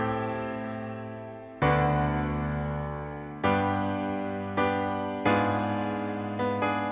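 Piano chords from the verse of a song, a two-bar phrase moving from the two minor chord to the five and back to the one, struck in sustained, ringing blocks with new hits entering several times, clear and alone.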